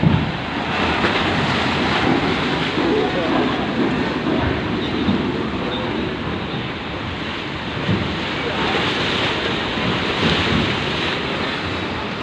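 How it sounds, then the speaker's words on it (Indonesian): Sea waves and strong wind at a ferry port where trucks board, a continuous loud roar of surf with heavy wind buffeting the microphone, steady and unbroken throughout. "Cuacanya lagi ombak juga ini."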